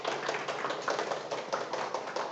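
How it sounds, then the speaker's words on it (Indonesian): Students in a classroom clap for a group that has just presented its computer network project, a steady, fairly faint patter of many hands with no talk over it. "Tepuk tangan untuk kelompok 1."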